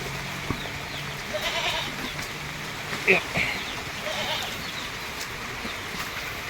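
Goats bleat faintly a few times among steady outdoor background noise, with people talking quietly underneath.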